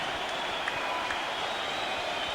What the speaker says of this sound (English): Look at this crowd, listen to this crowd